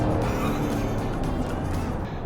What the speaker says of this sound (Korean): 이렇게 가속페달 딱 가져갔을 때 아무리 어마어마한 엔진이어도 이게 폭발적인 가속으로 이어지진 않습니다.